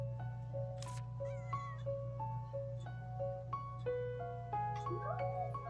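Video game cat meowing in Little Witch in the Woods: a series of short, tonal mews and chirps, some rising, under a steady background hum and soft game music.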